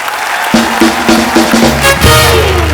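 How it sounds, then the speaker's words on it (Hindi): Studio audience applause on a Hindi comedy talk show, a steady wash of clapping running under a loud, punchy band music sting. "जोरदार तालियां हो जाए एक बार।"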